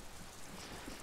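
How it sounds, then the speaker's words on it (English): Steady rain falling in the video game Disco Elysium, a dense, even hiss of drops filling the whole moment without any voices or breaks. "The rain is freezing."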